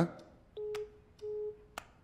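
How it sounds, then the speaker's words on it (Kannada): A phone rings with an incoming call in a film scene, two short, steady electronic tones separated by sharp clicks, close and clean over a quiet room. "ಯಾವುದೋ ಕಾಲ್ ಬರ್ತಾ ಇದೆ"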